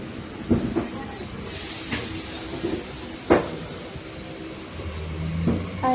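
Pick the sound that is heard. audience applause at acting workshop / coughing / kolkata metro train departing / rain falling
kolkata metro train departing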